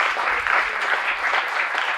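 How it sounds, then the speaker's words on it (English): Steady audience applause following a lecture on Mongolian Buddhist texts, images and rituals, a dense even wash of many hands clapping at moderate distance for about two seconds, with no voices over it. "Well, let's give Professor Wallace a big round of applause."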